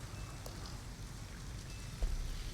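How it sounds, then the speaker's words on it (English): Steady, faint rain patters continuously in the video game Detroit: Become Human, a soft even hiss of drops with no voices over it. "At least we'd be out of the rain."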